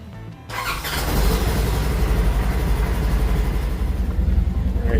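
Polaris Ranger 1000 UTV engine starts up and then runs at a steady, rumbling idle, loud and continuous with rough low-end vibration and no talking.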